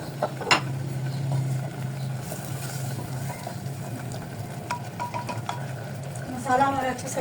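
Mutton boti curry paste sizzles and fries in a clay pot, with steady scraping and stirring, occasional utensil clinks against the pot, and a soft continuous frying hiss up close.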